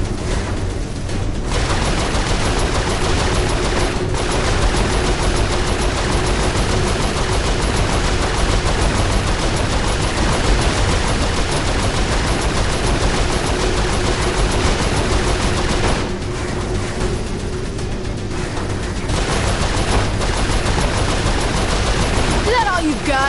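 Turret gunfire in the Saints Row 4 video game rattles in loud sustained automatic bursts, nearly continuous for over twenty seconds, with brief lulls and a steady tone running underneath.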